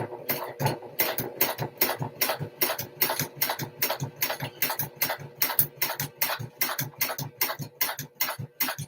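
A sewing machine top-stitching handbag straps at about a 4 mm stitch length, a fast even run of mechanical clatter with regular rhythmic pulses, close and steady throughout with no talking.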